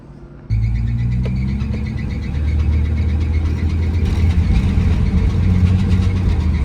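A 1958 Plymouth Plaza flathead six engine starts and runs with noisy belts, a steady close mechanical drone with a whining, whirring layer over the low rumble.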